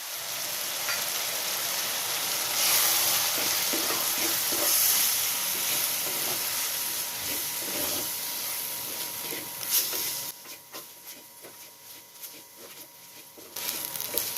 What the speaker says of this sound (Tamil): மிளகாத்தூளை போட்டு எண்ணெயில் நல்லா பரட்டிட்டு